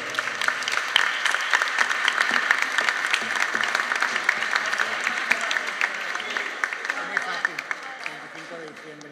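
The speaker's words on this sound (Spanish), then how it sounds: "un fuerte aplauso para todos" Warm applause from a church congregation after a Christmas recital by a parish choir at Iglesia El Calvario, a steady crowd of clapping hands that thins slightly toward the end.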